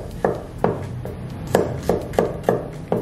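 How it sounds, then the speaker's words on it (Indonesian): A knife chops shallots small on a board while rendang jengkol is being made, giving seven distinct, evenly paced thuds, close and clear, with no talk over them. "Supaya gampang halus, kita kecil-kecilkan dulu sahabatku bawangnya juga ya."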